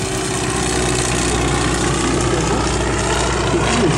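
Up close at an air show in Lens-Bénifontaine, a propeller airplane's engine idles with a loud, steady, buzzing drone that holds an even level throughout with no talk over it.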